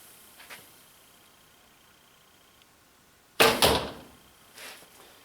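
An arrow loosed from a traditional archery bow with a normal nock position, a sharp close snap and whoosh followed by a second quick thud, then a fainter knock moments later, after near silence.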